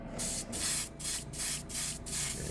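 An airbrush gives a few short test sprays, steady hissing bursts of air and paint separated by brief gaps, close and fairly quiet over a low background hum.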